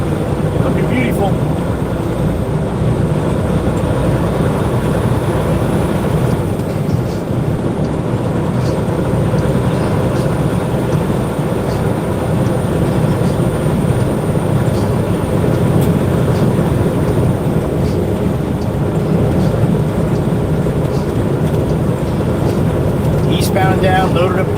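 A loaded eastbound freight train passes with a continuous, loud, rolling rumble and clatter that holds steady throughout, with no breaks.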